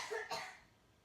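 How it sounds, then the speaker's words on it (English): A single short cough from a woman reading a children's story aloud, close and quiet, two quick bursts followed by soft room tone and no talking. "Yeah, I just need to cough."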